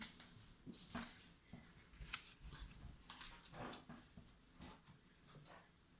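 Several dogs whimper and whine in short, scattered bursts throughout, with some shuffling and scraping close by and no talking.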